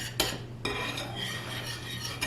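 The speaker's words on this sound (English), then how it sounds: "I'm whisking my 1 egg and my tablespoon of flour in this shallow dish" An egg and flour are whisked in a shallow dish, with a metal utensil clinking against the dish in a few sharp taps over a soft, continuous scraping swirl.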